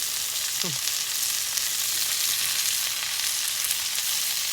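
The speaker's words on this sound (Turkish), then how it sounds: "Evet, etlerimizi atabiliriz artık." Chunks of meat frying for kavurma in a pan outdoors, a steady close hiss of sizzling oil running the whole time, with a brief chirp-like sweep early on and no talk.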